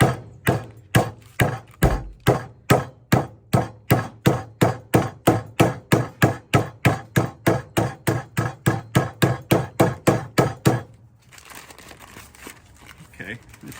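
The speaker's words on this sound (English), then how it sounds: "We're going to pound this out with a meat hammer" A meat hammer pounds beef for rouladen in a steady series of about thirty sharp, evenly spaced thuds on a board, close and loud, then stops abruptly and leaves quiet kitchen room tone.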